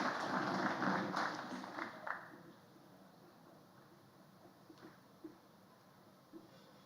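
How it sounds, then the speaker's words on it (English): An audience at a corporate sustainability conclave claps, a dense, moderately distant round of applause that is strongest at first and fades after about two seconds, leaving scattered faint claps and room noise. "A round of applause to Colonel Amit Verma, please."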